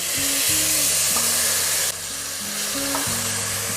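Sausage fries in a pan for a corn soup, with a loud, continuous close sizzle and hiss and a brief stirring knock, over a low hum with no talk.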